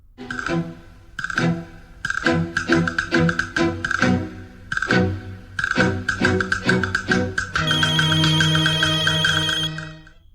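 A loud, melodic phone ringtone plays close by, a bright rhythmic tune of repeated chiming notes that swells into a sustained electronic chord near the end.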